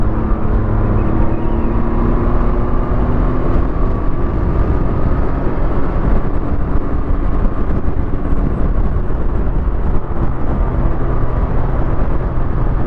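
A Can-Am 900 three-wheeler cruising on a highway, with a loud, steady engine drone and wind rush that holds constant throughout without pause.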